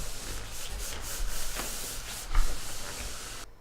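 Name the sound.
rubbing down PVC floor covering from middle outward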